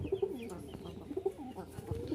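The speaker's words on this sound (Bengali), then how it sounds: "তো এখানে কবুতর 7 পিস আছে" Rajshahi Giribaz pigeons coo in soft, throaty, repeated phrases, close by, with faint rustling and a second bird overlapping now and then.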